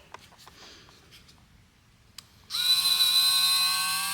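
A Dremel microdermabrasion device switches on after a few quiet handling clicks, then holds a steady, close, high-pitched electric buzz until the end.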